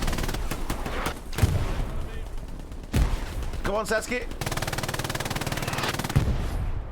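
Machine-gun fire in the World War II shooter Hell Let Loose, with sustained rapid bursts and scattered heavier gunshots on a battlefield front line, loud and continuous, while someone speaks briefly over the shooting.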